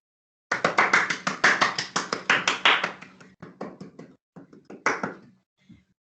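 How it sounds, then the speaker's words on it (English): Scattered clapping from a small school assembly audience for a pupil, a burst of claps that thins out into a few isolated taps and then stops. "Shall we give him a round of applause?"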